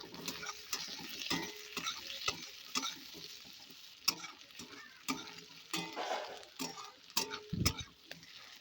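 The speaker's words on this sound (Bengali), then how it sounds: "পেঁয়াজের সাথে আলুটা আরেকটু ভাজা করে নেব।" Potatoes frying with chopped onion in a pan while making ghugni, repeated scraping stirs and clicks of a spatula over a soft sizzle, close and rhythmic, with no talking.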